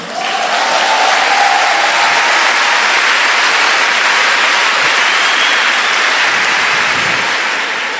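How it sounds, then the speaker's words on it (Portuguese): Loud, continuous applause from a large audience at the Desperta Débora women's conference, a dense wash of clapping that holds steady for several seconds without talk. "Se é para aplaudir, aplaude Ele."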